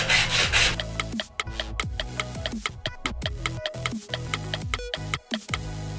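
A hand plane or blade shaving wood while making a homemade wooden marking gauge, with repeated short scraping strokes in an irregular rhythm, close and fairly loud, with no talking.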